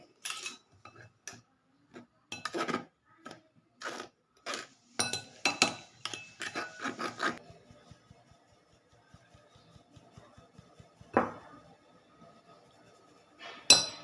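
Ground chai spice premix of cardamom, nutmeg and clove is sifted through a metal sieve, giving bursts of light rattling, tapping and scraping that come in irregular clusters, then grow sparse with a few isolated knocks near the end.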